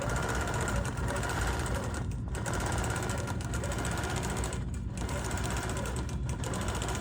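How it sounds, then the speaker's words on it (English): A sewing machine runs steadily, stitching a quilt along a ruler template, its dense motor whir continuous throughout with a few brief dips where the stitching pauses. "So now I'm just going to sew over where I just stitched"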